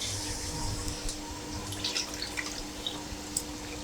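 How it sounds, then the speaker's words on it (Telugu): Water is poured into dal in a home kitchen while making sambar, giving a steady wet trickle with small splashy drips, with no talking. "ఈ పప్పు కలుపుకుందాం నీళ్ళు పోసి"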